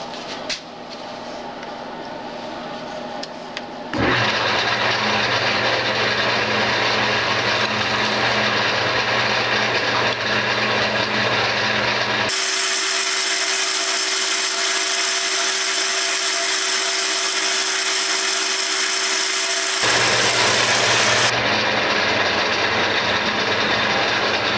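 A wood lathe spins an acrylic pen blank while it is wet-sanded through fine grits. The motor gives a loud, constant whirring drone. The tone shifts abruptly a few times as the speed or sanding contact changes, and no one speaks.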